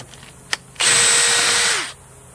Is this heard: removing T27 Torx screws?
yes